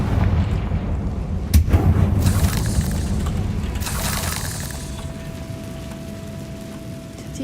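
A Confringo blasting spell explodes in Hogwarts Legacy: a sharp, loud burst followed by a second broad blast and a lingering rumbling roar.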